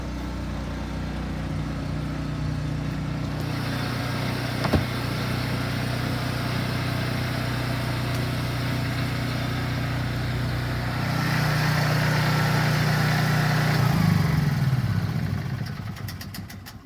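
A generator running steadily inside a shed enclosure fitted with an external muffler, a low droning hum that continues evenly, rises slightly, then winds down and stops near the end.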